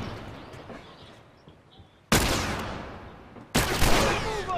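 Gunfire in the video game The Last of Us Remastered: two loud sudden bursts of shots, each followed by a decaying rumble, over a quieter ambient game background with no talk.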